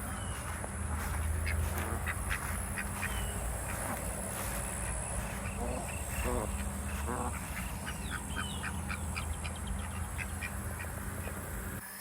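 A backyard flock of birds, including duck-like quacking, calls repeatedly over a steady outdoor hum, moderately close and continuous.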